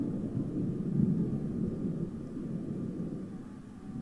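Thunderstorm ambience in the video game Loki's Story: a steady, low, muffled rumble that holds throughout at moderate level, with no voices.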